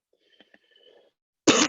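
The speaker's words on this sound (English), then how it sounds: "Forgive me for not just coughing into my hand there" A single sharp cough rings out loud and close after a few faint murmurs and small mouth noises.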